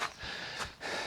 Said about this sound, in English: Excuse the heavy breathing, if you can hear that.